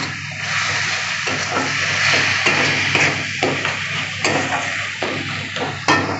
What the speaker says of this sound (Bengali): মশলাটা আমি কষিয়ে নেব।